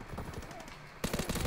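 Rapid automatic gunfire from the video game Call of Duty: WW2 rattles in quick bursts, growing louder and denser in the final half second.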